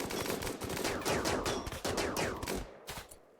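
Gunfire in the colony-survival video game Rimworld, a rapid run of sharp overlapping shots in quick bursts, loud and dense, then thinning out and fading at the end.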